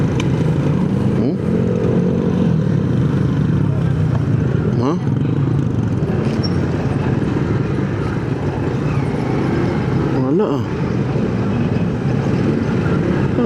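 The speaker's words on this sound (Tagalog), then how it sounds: "motor na naman yata natin yung pumuputok" A motorcycle engine runs steadily on a road trip through Bulacan, with a few sharp popping bursts standing out above the continuous drone.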